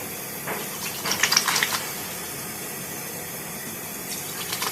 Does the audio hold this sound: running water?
yes